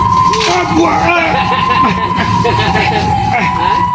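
A wailing siren, like an ambulance's, holds a steady high tone under continuous talk and background noise.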